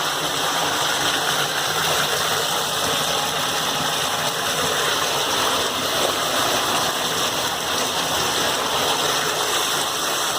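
Water from a pump gushes under pressure out of a homemade mini highbanker and splashes everywhere, a steady, loud rushing wash with a motor hum beneath it, unbroken for the whole stretch.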